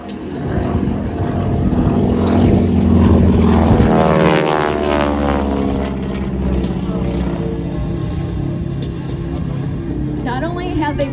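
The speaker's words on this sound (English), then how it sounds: "A beautiful spin sound as he passes" A propeller airplane roars past close by at an air show in Camarillo, its droning engine swelling loud then slowly fading with a shifting pitch.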